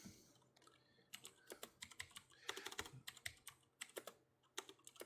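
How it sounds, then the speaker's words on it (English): Fingers type on a mechanical keyboard with blue switches, producing sharp, clicky keystrokes in uneven bursts and clusters, close and distinct against a quiet background. "it's a mechanical keyboard with blue switches, and it's really loud."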